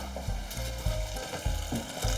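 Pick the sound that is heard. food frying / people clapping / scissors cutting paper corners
food frying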